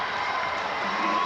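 A gym crowd at a 1999 senior girls basketball championship game between MEI and Heritage Park keeps up a steady roar of cheering and voices at moderate distance, with no breaks.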